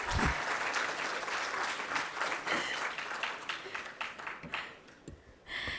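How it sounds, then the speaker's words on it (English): An audience claps at an engineering innovation prize final, a moderately quiet burst of applause from a crowd that thins and fades toward the end, with a few stray sounds and a brief voice at the close. "Applause."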